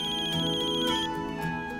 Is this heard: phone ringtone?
yes